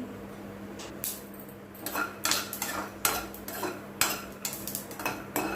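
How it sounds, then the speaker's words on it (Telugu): Peanuts stirring as they roast in a pan for a ponnaganti leaf and tomato chutney, giving a steady run of close metallic scrapes and clinks from spoon against pan over a faint background hum. "ఇప్పుడు పల్లీలు వేసుకొని వేయించుకోవాలి ఇవి వేగేదాకా కలబెడుతూ ఉండాలి"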